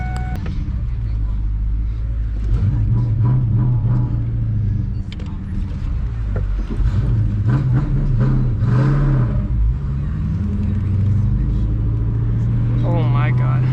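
A 1998 Ford Mustang GT with a 4.6L V8 revving and pulling hard, engine tone rising and falling through several pulls, loud and close inside the car, with a voice talking over it.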